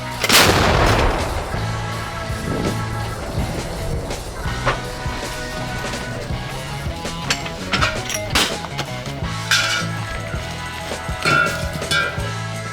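A powerful artillery shot booms at the start and rolls away, followed by scattered thuds and clanks in the background.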